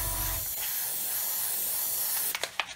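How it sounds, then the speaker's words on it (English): Spray paint hissing in a steady, continuous stream onto vinyl masking tape on a 1/144 Saturn V model kit, close up, ending with a few short bursts. "I'm purposely actually spraying into the tape to encourage it to go in any gaps"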